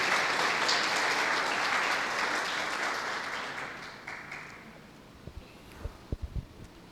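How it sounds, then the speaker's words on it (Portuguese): A church congregation applauds during a Portuguese-language worship celebration service: a dense, fairly loud burst of clapping that gradually fades away, followed by a few scattered low thumps. "Você pode aplaudir o Senhor por isso"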